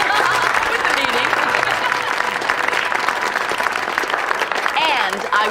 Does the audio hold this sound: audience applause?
yes